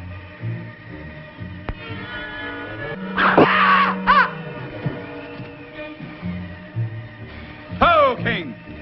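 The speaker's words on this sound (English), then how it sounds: "Scream came from the valley." A distant human scream echoes up from a valley in the Yukon wilderness, a couple of strained wailing cries rising and falling between spoken lines and the crackle of an old radio drama.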